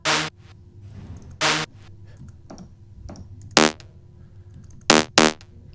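Short synth stab sample, the Spire stab, played in Logic's EXS24 sampler for EDM production: sharp bright hits repeated six times at irregular intervals, with quiet gaps between them and no voices.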